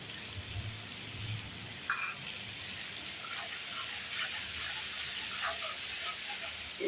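Spice masala for a green banana kofta curry simmers in a pan, giving a steady soft hiss scattered with small pops and bubbles, close and moderately quiet, with no one talking.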